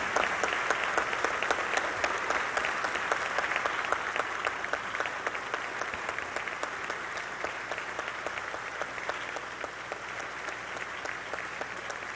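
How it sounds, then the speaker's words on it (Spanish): Sustained, dense applause from a crowd in the Chamber of Deputies fills the room at an even level throughout, with no talk over it. "Aunque el aplauso es muy elocuente"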